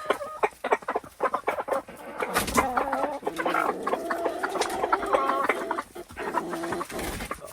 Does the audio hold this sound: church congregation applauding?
no